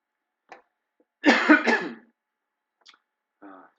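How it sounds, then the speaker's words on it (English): A short burst of harsh coughing, close and fairly loud, preceded and followed by faint, brief throat noises in an otherwise quiet room. "very, very annoying that I keep coughing like that"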